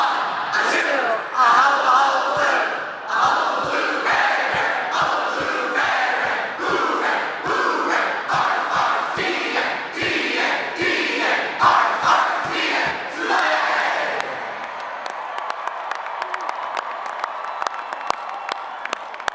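A graduation crowd at the Tulane commencement chants the hullabaloo cheer in unison, loud rhythmic shouted phrases from a large gathering, ending in scattered applause and cheering.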